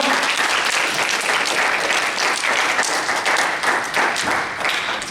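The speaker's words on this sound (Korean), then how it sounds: "박수 한번 주세요." An audience at a Sunday youth church service claps steadily in warm applause, dense and sustained throughout and fading a little toward the end.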